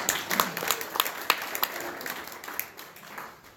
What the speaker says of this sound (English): That's worth applause